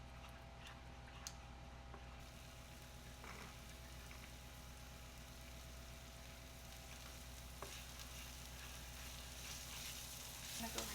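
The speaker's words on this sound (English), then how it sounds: "we're starting off with some garlic in our pan" Garlic sizzling in a frying pan, a constant dense crackle with a low steady hum beneath it and a few faint clicks, close and even throughout with no talking.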